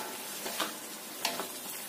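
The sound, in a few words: stirring food in a frying pan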